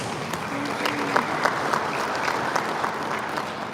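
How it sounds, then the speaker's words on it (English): Applause from the audience at a traditional rulers' council session in Akwa Ibom, steady dense clapping with occasional sharper claps and murmuring voices mixed in. "Can we give him a round of applause?"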